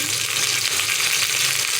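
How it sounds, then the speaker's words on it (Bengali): Chicken pieces sizzle in a pan over lightly fried onions with a pinch of whole cumin, a steady, close, bright crackling hiss with no pauses. "হালকা পেঁয়াজ ভাজার মধ্যে মুরগিটা দিয়ে দিলাম, সোনালি মুরগি"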